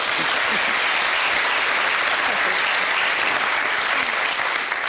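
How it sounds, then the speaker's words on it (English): Studio audience at a UK television game show giving a big round of applause, a thick continuous wash of clapping, loud and sustained without voices on top. "Big round of applause for Gillian."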